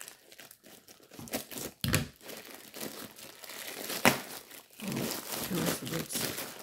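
A delivered parcel holding pencil cases is torn and unwrapped, with bursts of crinkling and ripping packaging close by, the plastic and paper rustling in uneven handfuls.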